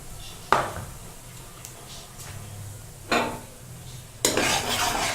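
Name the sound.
stirring and roasting maize flour in a pan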